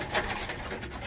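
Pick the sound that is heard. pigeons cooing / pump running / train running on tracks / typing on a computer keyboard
pigeons cooing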